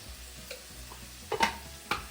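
Sugar being stirred into paneer jalfrezi in a pan: a quiet simmering backdrop broken by a few short scraping strokes of a utensil, the loudest two near the end.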